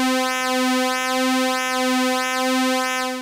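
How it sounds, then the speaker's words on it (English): A buzzy square-wave tone from a Klavis Twin Waves MkII digital oscillator holds one pitch while pulse-width modulation sweeps its timbre in a steady cycle, giving a repeating nasal, phasing wobble. "a square wave with pulse width,"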